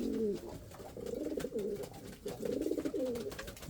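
Indian fantail pigeons cooing nearby in repeated soft, throaty rolling phrases with brief pauses between them, with no talk over them.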